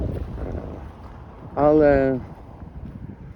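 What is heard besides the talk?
wind blowing into the microphone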